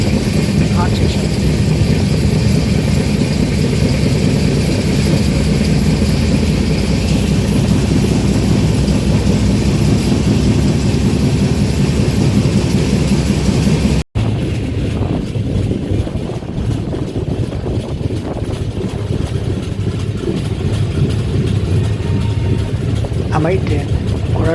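A passenger train rolls into the Ghoradongri railway station yard, a loud, continuous low rumble and drone of the moving train with steady mechanical noise, briefly cut off midway, then carrying on more quietly.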